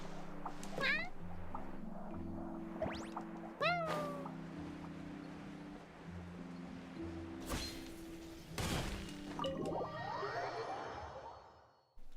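A cat in the game Genshin Impact gives several short rising meows over a steady droning background, with occasional thuds and whooshes between the calls.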